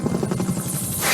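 Rotor chop of a helicopter in the Metal Gear Solid: Peace Walker video game, a loud, close, rapid rhythmic thudding that keeps a steady beat before smoothing into a rising whoosh.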